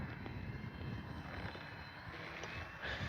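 A HobbyZone Carbon Cub S2 RC airplane comes in to land in strong wind, its small propeller motor a faint steady buzz over outdoor wind noise.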